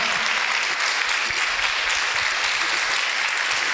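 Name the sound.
applause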